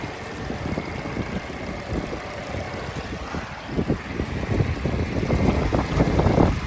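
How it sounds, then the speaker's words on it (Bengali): The engine of a 2018 Hyundai Elantra runs steadily at idle with a low, even hum that grows slightly louder and rougher toward the end, with no voices. "ইঞ্জিনের শব্দটা শুনে স্মার্ট শব্দ দেখে"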